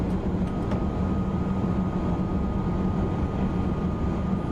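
A TGV Duplex high-speed train running in Train Simulator 2019 on the LGV between Lyon and Marseille, a loud continuous rumble and roar with a steady tonal hum, unbroken throughout.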